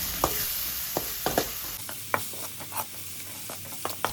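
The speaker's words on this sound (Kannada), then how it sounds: "1 ಟೇಬಲ್ ಸ್ಪೂನಷ್ಟು ಶುಂಠಿ ಬೆಳ್ಳುಳ್ಳಿ ಪೇಸ್ಟು ಇಷ್ಟನ್ನು ಹಾಕಿ ಚೆನ್ನಾಗಿ ಫ್ರೈ ಮಾಡಿ" Spices with ginger garlic paste frying in a pan for crab masala: a steady close sizzle punctuated by repeated sharp taps and scrapes of a spoon stirring against the pan.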